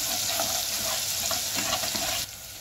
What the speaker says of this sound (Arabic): نزلت فيها شويه زيت من اللي كنت محمره فيهم البصل، وهنزل معلقه ثوم كبيره كده